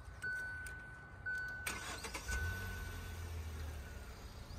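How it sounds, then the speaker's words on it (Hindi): A petrol car engine, heard from inside the cabin, cranks and catches after a couple of soft chime tones, then settles into a low, smooth, quiet idle. "एक बार कार को स्टार्ट कर लेते हैं देखते हैं कितनी आपको अंदर वॉइस मिलती है इंजन की"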